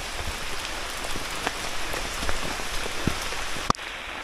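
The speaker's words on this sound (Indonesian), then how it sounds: "hujannya kerasa deras banget" Heavy rain pours during a stormy night hike up Mount Buthak via the Panderman route, a dense, steady patter on surfaces all around, with one sharp knock near the end.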